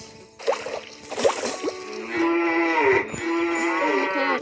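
Several cows moo in a farming video game, a few short calls early on followed by a long, loud, sustained moo that carries through to the end, with no talk over it.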